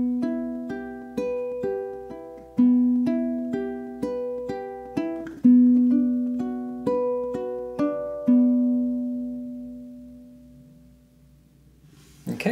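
Intro of a song on a low G ukulele, a slow plucked pattern of single notes, each ringing and decaying, close and gentle, with a long fading last note and no talking.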